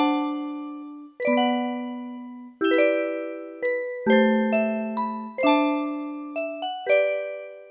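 A track from the Super Mario 64 soundtrack, a gentle bell-like melody of clear chiming notes that strike one after another in a slow lullaby rhythm, with sustained tones beneath, played alone.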